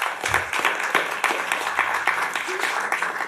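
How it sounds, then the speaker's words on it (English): An audience at an Augusta commission meeting gives a round of applause for GICH, moderately loud clapping mixed with voices and crowd murmur, ongoing for the whole stretch. "One more round of applause for GICH"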